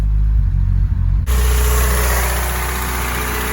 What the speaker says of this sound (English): there's a surging idle